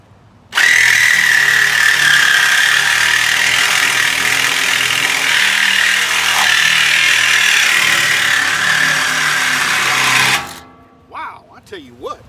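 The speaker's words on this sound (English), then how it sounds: "we'll see if I can cut this whole thing up with an Irwin blade" Power saw with an Irwin metal-cutting blade cutting through metal: one loud, continuous high-pitched grinding whine lasting about ten seconds, then stopping abruptly, followed by faint handling sounds.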